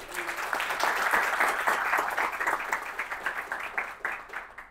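Audience applause at WordCamp Rio 2024 after a talk on performance and accessibility, a lively burst of many people clapping that rises quickly, rolls on for several seconds and starts to taper off.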